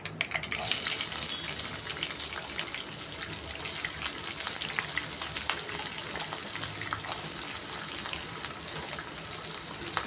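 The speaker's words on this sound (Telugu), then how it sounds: "ఉల్లిపాయ, పచ్చిమిర్చి వేసుకుందాం. ఉల్లిపాయలు వేసుకుందాం." Onions and green chillies frying in a pan for a brinjal coconut fry, a dense continuous sizzle and hiss close by, steady throughout with occasional faint clinks.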